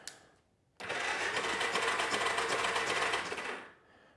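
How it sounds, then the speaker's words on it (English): Starter cranking over a Yamaha Big Bear ATV engine that is being revived, a fast whirring mechanical churn lasting about three seconds that stops without the engine catching, heard close in a quiet space. "Now, can we get it to actually crank over?"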